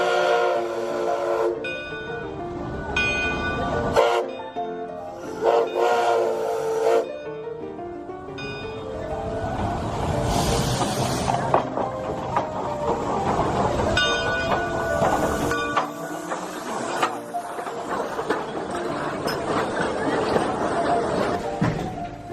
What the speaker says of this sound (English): went for a ride on the Oregon Coast Scenic Railroad